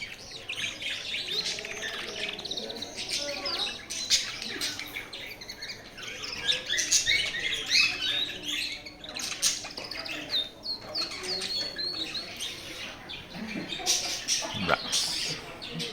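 Small pet-shop birds chirp and tweet almost without pause, a busy chorus of high calls that carries on throughout.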